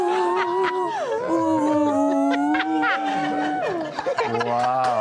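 A theremin played by hand near its antenna, a continuous gliding wavering tone that slides up and down in pitch, fairly close and steady.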